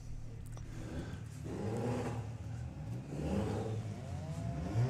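A drag racing car at the start line of a summer nationals meet revs up in two rising swells, heard fairly faint and distant through open air, with no nearby talk.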